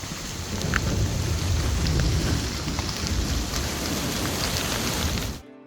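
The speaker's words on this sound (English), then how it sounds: "A full-on Rocky Mountain thunderstorm hit." A Rocky Mountain thunderstorm on a hiking trail: heavy rain pours steadily with a low rumbling of thunder underneath, a dense continuous wash of sound with no voices.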